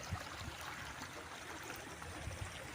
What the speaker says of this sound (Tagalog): kahit maliit lang siya na sapa, pero di siya natutuyuan ng tubig